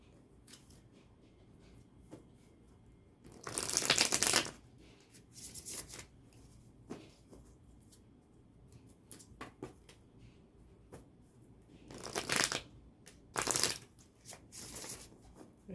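Tarot cards are shuffled in short bursts, crisp riffling flurries separated by quiet pauses, close and fairly soft, with scattered small taps and handling sounds between them.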